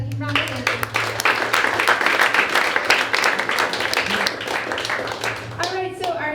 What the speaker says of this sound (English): Now let's give them another round of applause.